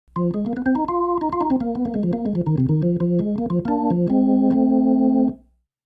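A Hammond organ's upper manual plays a quick jazzy run of chords and melody on a drawbar setting, bright and sustained, ending on a held chord that cuts off cleanly.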